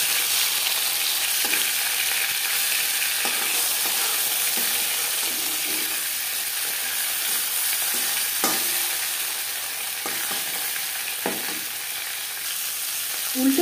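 Rohu fish sizzles steadily in hot refined oil, a dense continuous frying hiss with occasional crackles and a few scraping stirs as the pieces are turned over in the pan; no one speaks.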